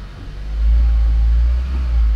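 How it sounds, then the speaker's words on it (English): A third-generation Toyota Prius gasoline engine starts in power mode and is given a little throttle, producing a close, deep, steady rumble that swells slightly. "I put it in power mode, and typically power mode starts up the gasoline engine. And give it a little gas."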